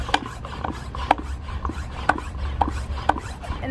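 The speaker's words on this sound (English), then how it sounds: "And then you just pump this to create pressure." A hand pump pressurizes a portable camping shower sprayer, giving regular rhythmic strokes about every half second, each a soft scraping rub ending in a light knock, close and fairly quiet, with no one talking.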